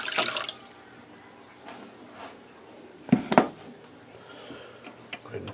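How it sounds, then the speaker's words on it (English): Water poured into a pot of rice on a home kitchen stove, a faint trickling and splashing with a louder splash burst midway, quiet between. "pour the water in."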